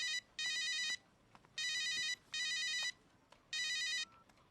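A mobile phone ringtone rings in four bright, identical bursts, each lasting about half a second to a second, separated by short pauses with faint room noise between them and no voices.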